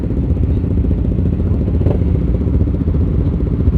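A quiet motorcycle exhaust on a night group ride in Berau gives a steady, low, mellow rumble that runs unbroken through the whole moment, fairly close and without talk.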